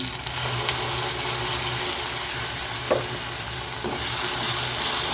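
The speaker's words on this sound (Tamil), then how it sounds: "தக்காளி நல்லா வதங்கட்டும்" Tomatoes sauté in a pan with salt for a spicy paneer gravy, a loud, steady sizzle close up with a low hum and a few spatula knocks while stirring.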